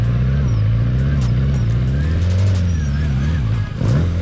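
Stunt motorcycle engine revving during UK stunt riding on a squared-off, worn rear tyre: a loud, close, continuous engine drone whose pitch rises and falls with the throttle and dips briefly near the end.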